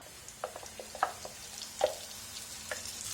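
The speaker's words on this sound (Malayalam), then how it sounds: "ഈ നെയ്യിലേക്ക് നമ്മൾ നന്നായിട്ട് അരച്ചു വെച്ചിരിക്കുന്ന ചക്ക ആഡ് ചെയ്ത് കൊടുക്കാം." Ground jackfruit paste added to hot ghee in a pan for jackfruit jam, faint sizzling with a few scattered wet pops and spatters, quiet and close, with no talking.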